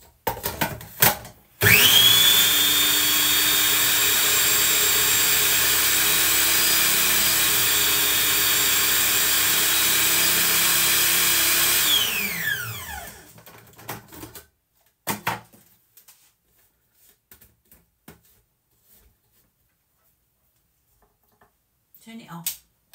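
A food processor blade spins biscuits and butter into a wet-sand crumb, a loud, steady motor whir that starts abruptly, runs about ten seconds, then winds down to clicks and handling noises.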